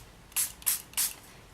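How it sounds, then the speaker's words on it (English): Three quick hisses from a water spray bottle misting polymer clay while a jungle-themed pendant is shaped, each short burst evenly spaced and close, with near silence in between. "give another spray to prevent it sticking to my fingers"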